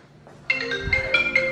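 A phone ringtone starts abruptly, a close, fairly loud melodic electronic chime repeating short tones, cut off after about a second.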